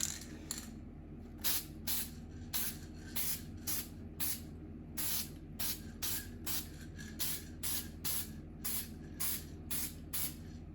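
Lacquer sprays from an aerosol can onto wood in a long run of short, regular hissing bursts, close and fairly loud, with a low steady room hum underneath.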